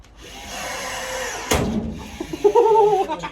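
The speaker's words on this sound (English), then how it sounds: "it's my chance to use this beautiful Milwaukee rivet gun" A new Milwaukee cordless rivet gun whirs steadily, then a sharp snap as the rivet pops at mid-point, followed by a few quick mechanical clacks and rattles, close and alone in a workshop.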